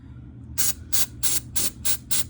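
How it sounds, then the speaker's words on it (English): An aerosol can of starting fluid sprayed onto tight pulley bolts on a Murray riding mower: six short, evenly spaced hissing bursts, close and fairly quiet. "I'm going to spray them all."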